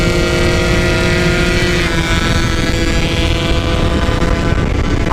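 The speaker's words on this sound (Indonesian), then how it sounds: "Gila, motornya kenceng ya, sampai kesalip." A Yamaha RX King motorcycle with a torn oil hose runs near top speed, producing a loud, steady engine drone with a strong whine that stays constant throughout, with no talking.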